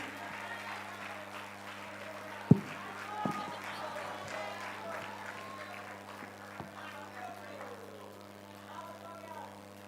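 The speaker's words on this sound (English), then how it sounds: "Let's clap for them as they come up on stage." Audience at a national investment quiz competition semi-final claps for presenters coming up on stage, with steady, moderately faint applause over a low hum and a few sharp knocks.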